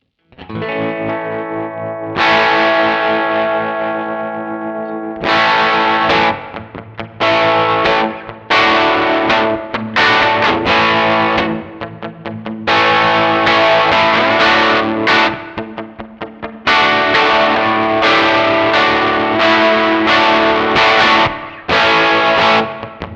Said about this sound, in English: Let's throw tremolo with some dirt, and then let's throw on some spring reverb.